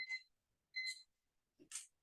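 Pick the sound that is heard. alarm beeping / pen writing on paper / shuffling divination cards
alarm beeping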